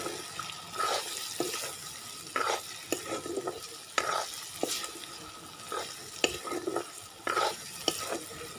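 Broiler chicken frying with spices in a pan, stirred so that scraping and sizzling bursts come in an irregular rhythm over a low steady hiss, close and fairly loud.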